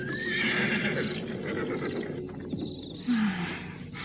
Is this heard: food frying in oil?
no